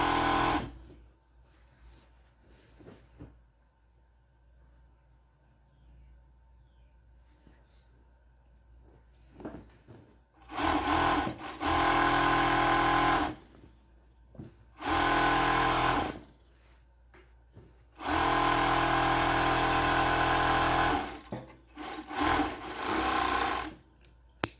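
Overlock serger running in several long bursts as it finishes the skirt seam of a made-to-measure long dress, a loud steady whir between quieter pauses with faint handling noise.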